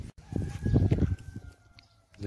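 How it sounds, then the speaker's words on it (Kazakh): Chickens on a Kazakh farm clucking in a short burst of throaty, close calls, then fading to quiet. "тауықтар осы"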